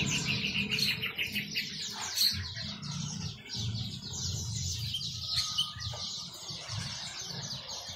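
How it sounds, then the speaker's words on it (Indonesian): An Asian pied starling, or jalak suren, sings at a bird market with continuous chattering, whistling phrases, mixed with other birds' chirps and a low background murmur throughout. "jalak suren gacor."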